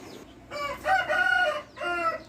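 A chicken calls nearby with three drawn-out, strained vocal bursts separated by short pauses, clear and fairly loud over quiet background noise.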